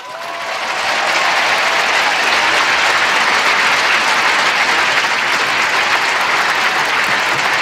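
Sustained applause from a large Stanford commencement audience greeting Tim Cook, rising within the first second to a loud, dense, steady roar of clapping that holds throughout.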